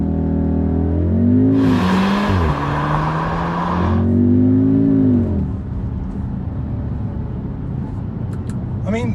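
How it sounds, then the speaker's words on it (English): A 2-litre turbocharged Audi SQ2 launches hard under launch control. The engine note climbs loudly through two rising sweeps with a brief drop at a gear change, then settles to a quieter rumble as the car pulls away. "it's the same noise that you'll get from the Golf R, the Cupra, the S3, because it's pretty much, well, it is the same engine"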